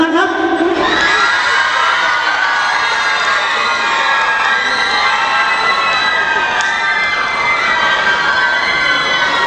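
A loud, dense crowd at a 72nd-anniversary company party cheers and shrieks continuously, with excited children's voices mixed into a sustained roar.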